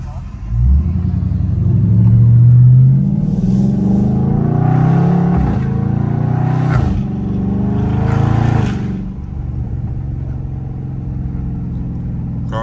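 Dodge Charger Scat Pack engine in track mode, a loud, steady rumble that rises and falls as the car drives on, with short sharp shifts or blips near the middle and end. A voice talks over it throughout.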